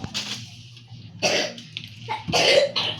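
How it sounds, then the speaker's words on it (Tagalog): A person coughs in two or three harsh, throaty bursts spaced about a second apart, close and moderately loud, with a low background hum between them. "Ubo."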